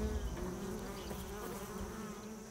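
Bees buzz steadily at close range around a hive in a hollow tree, a continuous droning hum with no pauses and no voices.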